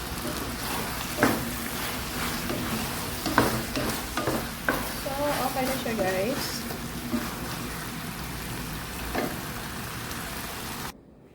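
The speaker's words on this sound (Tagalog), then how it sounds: "Ipalo lang natin konti yung cheese." Cheese being stirred into a pork and bamboo shoot dish in a hot pan: a steady sizzle with repeated scraping stir strokes, and a voice faintly in the background.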